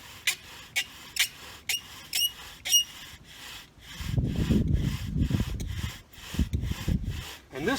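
A wooden bow drill spindle spins under downward pressure in its fireboard set: a series of short, rhythmic squeaks with each stroke, then sustained loud grinding friction from the wood.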